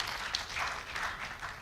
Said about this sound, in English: And have applause to the English teachers.